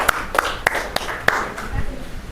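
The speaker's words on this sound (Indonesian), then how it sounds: "mari tepuk tangan yang meriah." A classroom of students gives applause: about five sharp, separate hand claps fairly close by over the first 1.5 seconds, then a quieter room with low murmuring.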